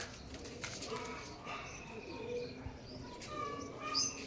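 Soft pigeon cooing mixed with scattered bird chirps over a low, busy background rumble, as flying pigeons are released; the calls come and go without a steady rhythm.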